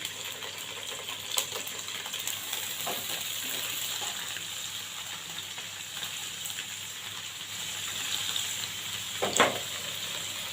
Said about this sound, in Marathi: पनीरचे मोठे मोठे क्यूब्स ठेवलेले आहेत फ्राय करून घेणार आहे